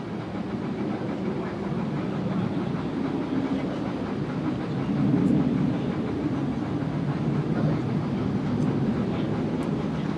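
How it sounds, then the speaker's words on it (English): Mirage military jet aircraft run in at an air show, heard as a distant, steady low roar that swells slightly midway and then holds, with no talk over it. "the aircraft will break off towards left, and very shortly they will be followed by 2 more aircraft to take on remaining targets"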